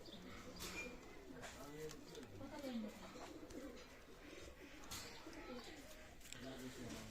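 Pakistani high-flying pigeons in a loft coo in low, repeated rolling calls, fairly close, while a person talks over them for most of the stretch.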